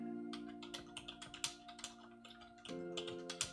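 Fingers tap out an uneven burst of keystrokes on a computer keyboard, close and clear, over a steady electronic hum.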